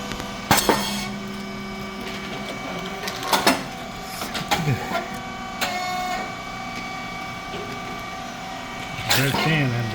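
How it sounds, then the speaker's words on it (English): A SYP4509 rice cake machine with heated coated moulds pressing thin crispy rice cakes, giving repeated sharp bangs and hissing bursts over a steady mechanical hum, with people talking nearby. "Rice cake machine SYP4509. Heat and coated mold. Thin crispy type for Brazil."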